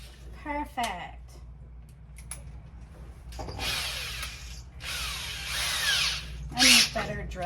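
A power drill bores into wood flooring inside a Nissan NV 1500 cargo van conversion, whining in several separate bursts of rising intensity with short pauses and faint handling noise between them.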